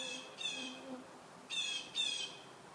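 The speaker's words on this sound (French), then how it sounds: "On entend une petite famille de geais bleus" A small family of blue jays in a forest by a stream, giving four harsh, raspy calls in two pairs, clear and moderately near against quiet woodland background.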